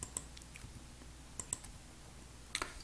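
Sparse mouse clicks and a few keyboard keystrokes on a computer in a lecture setting, with a short cluster near the start, a pair around the middle and another burst at the end, faint and close with no talking.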